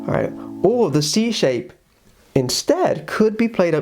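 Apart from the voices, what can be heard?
No everyday noises stand out.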